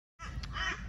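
Crows cawing outdoors near golf courses, a single loud, harsh, drawn-out caw that starts abruptly after a short silence and rings close by, with no speech.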